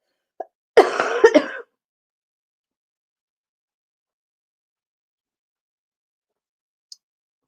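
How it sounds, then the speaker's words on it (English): A short burst of coughing, two or three quick harsh coughs close by, followed by long silence. "Have you ever noticed you have these like coughing tantrums like at the worst moments?"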